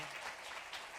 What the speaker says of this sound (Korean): 우리 한번 박수로 한번 환영할까요?